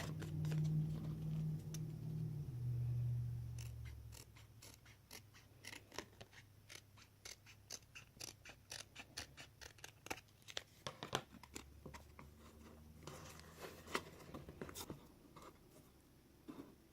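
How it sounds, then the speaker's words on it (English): Scissors cut through the layers of a handmade gift box with a two-layer bottom, a steady run of crisp, close snips after a low hum fades early on. "I need to cut a little bit more"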